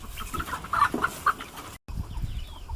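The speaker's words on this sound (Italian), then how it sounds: "almeno i polli ne hanno approfittato e hanno mangiato a sazietà" Hens on a farm after a hailstorm cluck in short bursts of several calls close by, with scratchy rustling and a brief gap before softer clucks resume.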